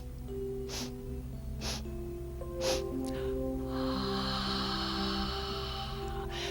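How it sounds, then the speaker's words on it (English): Sharp sniffs in through the nose during a breathing exercise, several quick intakes spaced about a second apart, close and clear over a steady background hum and faint music. "Now close your lips and sniff. Individuals sniffs as you sit up."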